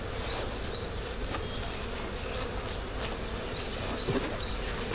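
A honeybee swarm buzzes steadily up close, the bees fanning their wings in a dense continuous drone with individual bees whining past.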